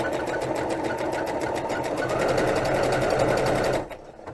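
A sewing machine stitching along the edges of cross stitch fabric, a fast, even mechanical whir with a rapid needle rhythm, running loud and close for about four seconds before stopping abruptly.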